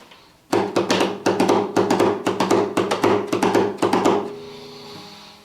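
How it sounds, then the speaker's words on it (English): Acoustic guitar strummed in a quick gallop pattern, about a dozen crisp rhythmic strums played up close and alone, ending on a ringing chord. "The strumming pattern is a bit of a gallop strum."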